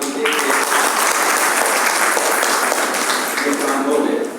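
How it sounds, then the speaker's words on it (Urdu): An audience at a university lecture applauds in a sustained, dense wash of clapping that holds loud and steady for several seconds before easing slightly at the end. "تالیوں سے استقبال کیجیے"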